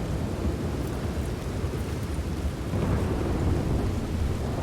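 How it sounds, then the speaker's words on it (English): A loud thunderstorm roars in the video game Red Dead Redemption 2, a dense continuous wash of heavy rain and deep thunder rumble at high volume with no speech. "This is a very, very loud storm."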